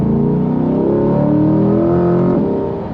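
A C8 Corvette or Camaro 1LE engine revs hard, its exhaust rising into a loud, smooth roar up close before easing off near the end, with no talk over it.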